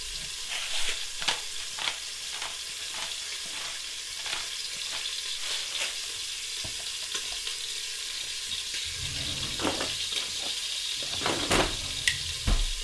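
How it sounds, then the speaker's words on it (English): Beef shank sears in a hot pan with a steady, crackling sizzle and scattered pops and spits, close up, with a few scraping sounds near the end. "I'm going to let it sizzle for just a minute"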